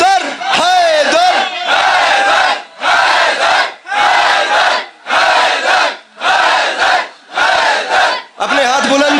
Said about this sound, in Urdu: جو سمجھ گئے جن کے ہاتھوں کے مالک حسین ہیں، مل کے بولو حیدر حیدر